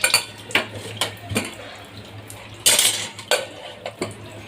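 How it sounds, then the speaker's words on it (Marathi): A cooled pressure cooker is opened in a home kitchen, with a series of sharp metallic clinks and clatters of the lid and utensils, close and loud, irregular bursts with short quiet gaps, no talk. "कुकर थंड झालेला आहे, आपण ते झाकण खोलून बघूया."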